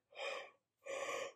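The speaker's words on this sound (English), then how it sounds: "I should not be yawning." Two long breathy exhalations, one after the other, fit a person yawning, each swelling and fading with a short silent gap between them and no talk.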